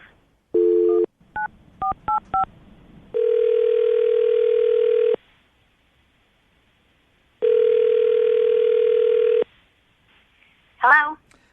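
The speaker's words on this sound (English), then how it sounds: "I'm going to call her right now, get her on the phone" Landline telephone call being placed for a radio show: short DTMF keypad tones, then two long steady ringback tones separated by silence, ending with a brief voice as the call connects.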